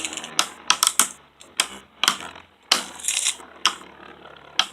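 Beyblades Horusood H2 and Ifritor I2 launched into a stadium, giving a run of sharp clacks and clattering collisions in bursts with gaps between, close and fairly loud, no talk.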